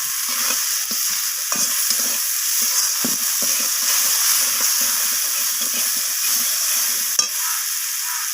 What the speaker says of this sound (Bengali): তো সমস্ত কিছু আবারও আমি কষিয়ে নিচ্ছি এইভাবে আর দিয়ে দিলাম কয়েকটা কাঁচা লঙ্কা